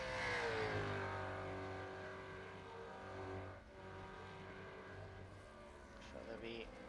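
Supercars engines revving during burnouts at Phillip Island Circuit in the iRacing video game, a steady layered engine drone with rising and falling revs, heard under a commentator's voice.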